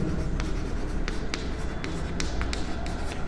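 Pen scratching across paper as a commerce maths commission problem is worked out by hand, a run of short strokes and taps in steady rhythm, close and fairly quiet with no talk.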